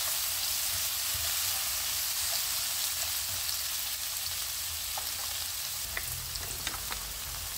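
Tomato and finely chopped pineapple stir-fry in a pan with a steady, close hiss of sizzling oil, and a few light stirring scrapes come near the end.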